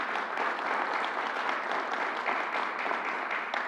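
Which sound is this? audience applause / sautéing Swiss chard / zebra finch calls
audience applause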